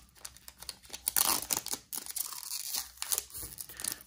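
A foil Pokémon booster pack from a Destinée Radieuse box is ripped open up close in several short, crinkly tearing bursts, with no talking.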